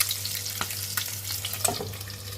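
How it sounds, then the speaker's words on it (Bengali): Potato pieces for egg curry fry in hot oil with a short, close, even bubbling sizzle, plus a few soft clicks. "এখন ডিমের জন্য আলু ভাজবো"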